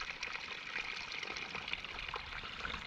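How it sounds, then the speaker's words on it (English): Water runs unseen beneath grass down a hillside in wild Scottish countryside, a steady, faint trickling and gurgling that continues without a break and with no voices. "And I can hear water running at both sides."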